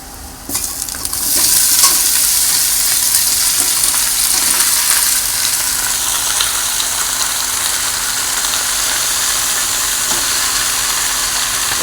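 Pumpkin, Malabar spinach, potato and shrimp drop into hot oil with fried onion, jumping to a loud, close sizzle that holds steady, with faint stirring scrapes mixed in.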